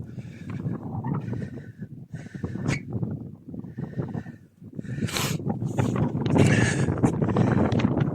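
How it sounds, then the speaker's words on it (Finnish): Strong wind buffets a microphone outdoors in the Savo countryside, gusting and rumbling steadily throughout with rising and falling bursts. "Täällä tuulee sen verran, että ei varmaan kuulu mitään"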